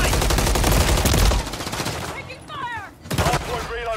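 Bursts of automatic gunfire in Call of Duty Modern Warfare 3 multiplayer, a dense loud fusillade at first, then fading into game effects and a few sharper shots near the end.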